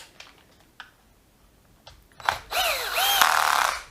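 A power driver briefly spins a screw into the housing of a Dewalt DCD996 drill under repair. A few clicks of handling come first, then a close, whirring burst rises in pitch and cuts off.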